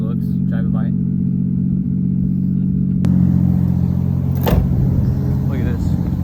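A Toyota Crown with a 1JZGTE engine running on a standalone ECU idles steadily, with a deep, even low hum that holds throughout and a brighter hiss joining partway; someone talks over it.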